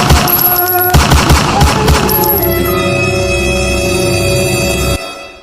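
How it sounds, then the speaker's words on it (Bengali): A comedy skit features a loud burst of rapid gunfire, several quick sharp shots in the first two seconds, followed by a sustained ringing, tonal tail that fades out near the end. "এটা তো কোমরের তলে গুল্লি মারছি"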